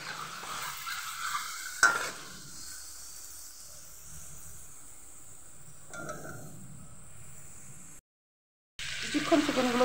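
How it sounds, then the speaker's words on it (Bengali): A kilo of chicken pieces fries in hot oil, giving a steady hiss and sizzle broken by occasional stirring scrapes, with one brief silent gap before the sizzle returns loudly. "চিকেনটা দিয়ে আমি একটু তেলের মধ্যে ভেজে নেব।"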